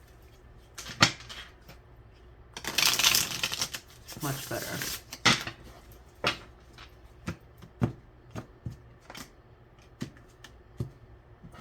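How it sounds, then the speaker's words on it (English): A deck of tarot cards is shuffled in one brisk riffling burst, followed by scattered taps and soft snaps of cards being handled, with a voice speaking briefly nearby. "One more shuffle for Virgos, just to be certain."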